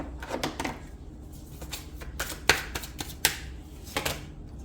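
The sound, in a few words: tarot cards being shuffled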